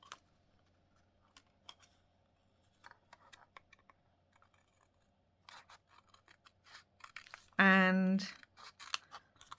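Scissors trimming paper for a junk journal border, with a series of crisp snips and rustles close by, scattered through the clip, and a voice briefly speaking over them.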